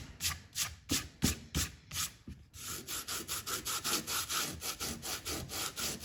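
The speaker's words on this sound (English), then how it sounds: "very gently with your fingers just sort of scrape that all off" Fingers scrape dried watercolour paint off paper in a fast series of dry, rasping strokes, like sandpaper. The rubbing starts in separate close pulses and then settles into a steady back-and-forth rhythm, near and fairly quiet, with no talking.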